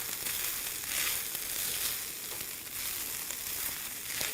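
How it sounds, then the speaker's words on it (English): Vegan ground round with mushroom seasoning and spices sizzles steadily in a hot pan while being stirred, a dense, continuous crackling hiss with faint scraping. "we're going to stir this all together, making sure all the ingredients and the spices are getting well incorporated into the vegan ground round"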